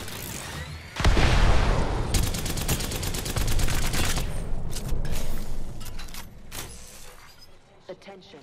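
Bursts of automatic weapon fire crackle in an Apex Legends firefight, rapid rhythmic shots with a heavy boom at the start, dense volleys that thin out and fade toward the end, with voices over them.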